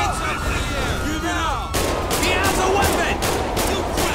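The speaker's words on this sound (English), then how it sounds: "Who is shooting?" Gunfire in GTA, a dense crackle of rapid shots that turns into sharper repeated bangs partway through, loud and continuous, mixed with sirens and voices talking over it.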